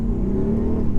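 A 2017 Audi SQ7 accelerates hard toward 60 mph, heard from inside the cabin as a loud, steady engine drone that climbs slightly in pitch over a brief moment, with no talking.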